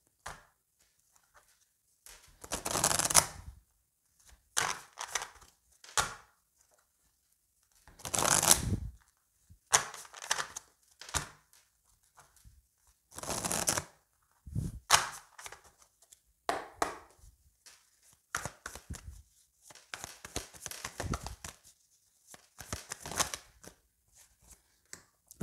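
Oracle cards shuffled by hand in repeated riffling bursts of a second or two, separated by short quiet gaps, close and crisp throughout with no talking.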